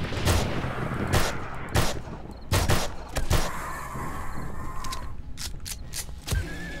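Full-auto weapon fire in 7 Days to Die, heard as several loud rapid bursts of gunshots with short pauses between them, close and sharp over a constant background of game ambience.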